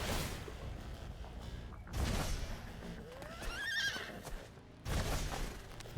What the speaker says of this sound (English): My horse is stomping mad about it.